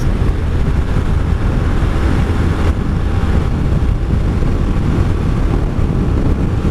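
Heavy wind buffeting a rider on a 1984 Honda V65 Sabre VF1100S motorcycle, a loud, constant low roar of rushing air with engine rumble underneath, unbroken throughout.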